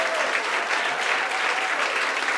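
An audience claps steadily and densely for a couple of seconds during a live comedy talent game show, a continuous wash of applause without talk.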